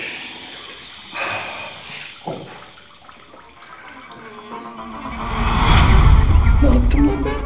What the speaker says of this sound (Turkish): Sifonu niye çektim?